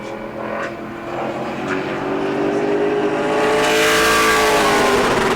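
A blue number 24 Pro Late Model race car qualifying at New Smyrna, its engine droning steadily with rising pitch as it accelerates down the backstretch, growing louder and closer over the final seconds.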